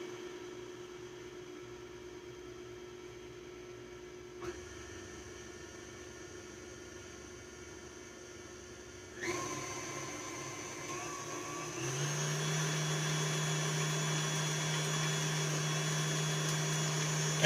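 Electric hand or stand mixer beating red velvet cake icing, a steady motor whir that starts low, then steps up twice to a louder, higher hum and holds there.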